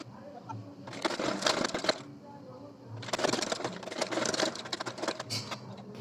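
A sewing machine stitches a patterned design fabric onto a garment sleeve, running in two bursts of steady, rapid whirring with a short pause between them, close and fairly loud.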